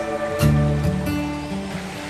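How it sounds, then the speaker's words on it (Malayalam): Clear stream water runs over small rocks in a forest area, giving a close, steady rushing flow with a brief splashier surge. "നല്ല തെളിഞ്ഞ വെള്ളമാണ് ഈ ഒഴുകി പോകുന്നത് കേട്ടോ"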